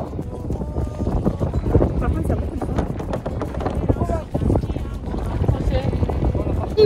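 Strong wind at sea buffets the microphone on a kayak outing off Mayotte, a loud rough roar with gusts and water sounds, while people talk over it.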